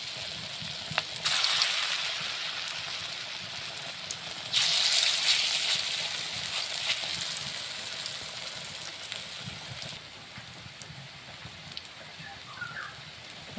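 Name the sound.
pumpkin flower fritters frying in hot oil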